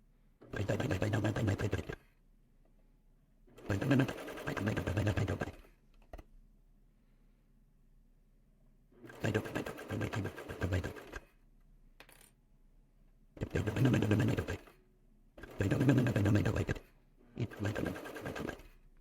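A sewing machine sews elastic onto fabric at the edge of a lined V-neck bodice, running in several short bursts of rapid stitching separated by quiet pauses. It sounds close and fairly loud.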